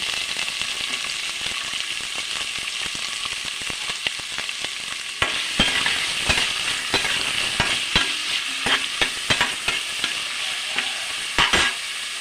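Onions frying in a pan, a steady loud sizzle throughout with frequent sharp clicks and scrapes of a utensil stirring them, no voices.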